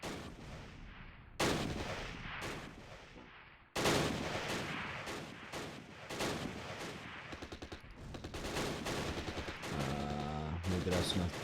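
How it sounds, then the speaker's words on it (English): Close Combat mortar and artillery fire booms in heavy, repeated blasts and crackling bursts, some sharp and close, others rolling on, with a voice speaking briefly. "fire off 1 more and then start throwing mortar shells up on the bridge"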